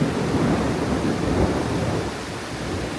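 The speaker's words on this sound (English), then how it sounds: "That's a lot of thunder." Thunder rolls as a dense, continuous rumble with no clear cracks, steady and fairly loud, heard alone without any voices.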